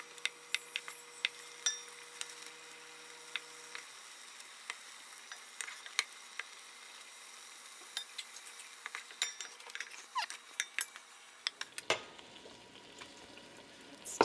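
Beef stew meat browning in a pan with a steady soft sizzle and frequent sharp clinks of a utensil against the pan, fairly quiet and close, with no talking.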